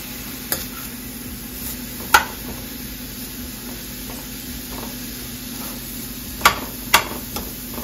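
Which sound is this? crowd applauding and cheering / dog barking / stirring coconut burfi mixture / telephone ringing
stirring coconut burfi mixture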